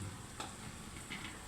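Peanut powder being stirred into potato curry frying in a pan, with a low steady sizzle and a few soft scraping strokes of the spoon, fairly quiet and with no talking.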